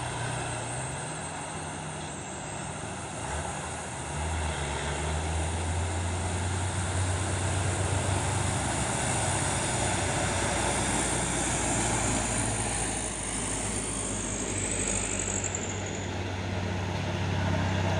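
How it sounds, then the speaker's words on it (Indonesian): Hino dump truck engine, a loud continuous diesel drone with a deep low rumble and steady whine, holding and swelling slightly in level throughout, with no talking. "Dam truk Hino ini."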